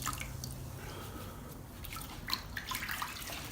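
A grout sponge dunked and sloshed in a bucket of water while caulking a shower and bathtub, with wet dripping, squishing and splashing close by and no speech.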